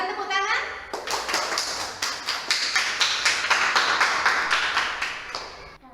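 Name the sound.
class clapping after group presentation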